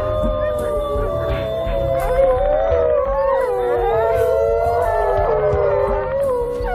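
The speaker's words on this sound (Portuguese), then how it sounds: "Os uivos os ajudam a se juntarem." A wolf pack howls in the wild, several long, overlapping, wavering howls rising and falling together over a low rumbling background, loud and sustained throughout.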